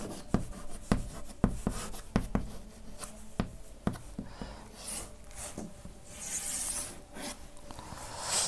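Corner points for a linear programming problem are written on a board, a string of sharp taps and scratchy strokes in quick bursts, followed by softer rubbing, close and fairly quiet.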